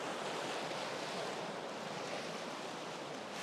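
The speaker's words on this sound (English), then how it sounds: "Hopefully you can hear me over the roar of the water. There is so much water coming down the river at the moment." Fast-flowing river on Dartmoor, swollen with heavy water, giving a steady, loud broadband roar that fills the scene without a break and with no voices over it.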